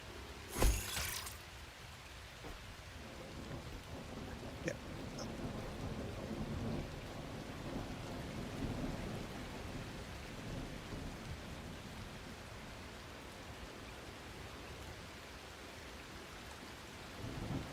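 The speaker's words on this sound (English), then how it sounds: "Why is it fucking raining?" Video game rain pours steadily throughout, opening with a sharp thunder crack and low rumbles, with no voices present.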